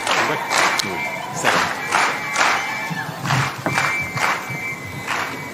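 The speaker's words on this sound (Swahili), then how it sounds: "Tupikie makofi ya kilo moja." A crowd at a public event in Kenya applauds and cheers to welcome the President, rhythmic bursts of clapping and shouting in repeated waves, fairly loud and close.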